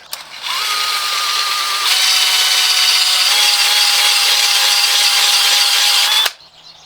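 A lawn mower blade being sharpened with a drill-driven sharpener: a loud, steady grinding whine that holds for about six seconds with a slight pitch shift partway through, then cuts off abruptly.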